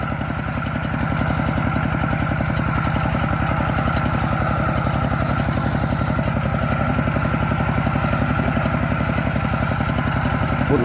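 A walk-behind farm tractor with a 9.5–11 horsepower engine runs at a steady idle, a loud, close, even chugging thrum with rapid regular firing pulses and light mechanical clatter, no voices.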